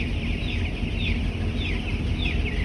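Chickens cluck and murmur in repeated short calls on a poultry farm against a constant noisy background, fairly close, with no voices.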